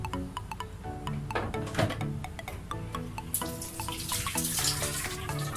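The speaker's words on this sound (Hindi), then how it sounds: "अब हम इसके ऊपर मेरे पास लेमन जूस जो रखा है थोड़ा सा वो डालेंगे।" Lemon juice poured over chicken dum biryani in a home kitchen, a faint watery trickle and drip with light clinks, quiet and close.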